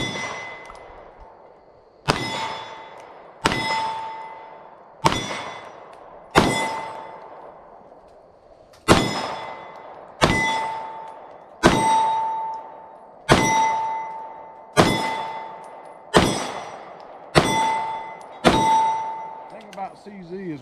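Shots from a CZ P-10S pistol strike steel targets, each sharp bang followed by a ringing metallic clang, about a dozen spaced a second or two apart and loud and clear.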